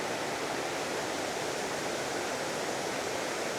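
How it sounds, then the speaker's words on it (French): A small waterfall on a damp hiking trail in Yangmingshan, Taiwan, gives off a steady, even rush of falling water. The sound is unbroken and moderately loud, with no voices over it. "maintenant on est arrivé à une petite cascade."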